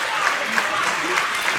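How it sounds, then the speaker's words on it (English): A wrestling event crowd in Broadheadsville cheers and claps steadily, a dense roar of applause with a commentator talking over it. "And this crowd in Broadheadsville trying to get Malik back to his feet, trying to will him back into this contest."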